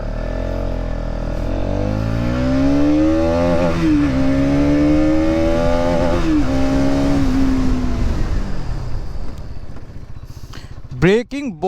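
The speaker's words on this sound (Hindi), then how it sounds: "तो एक बार एग्जॉस्ट नोट आपको सुना देता हूँ इसका भी।" A 2023 Bajaj Pulsar NS200 motorcycle's exhaust note rises as the bike pulls away, revving up through the gears with a loud, climbing engine tone before easing off and a sharp final rev near the end.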